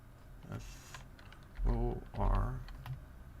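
Fingers tap on a computer keyboard while a report is being written, scattered light keystrokes close by, interrupted midway by two short spoken phrases.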